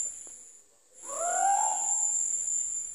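An owl calls once at night, a single rising-and-falling hoot standing out over a constant high insect chirr, close and fairly clear.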